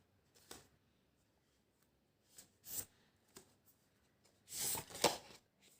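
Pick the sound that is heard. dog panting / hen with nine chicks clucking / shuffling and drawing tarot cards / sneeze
shuffling and drawing tarot cards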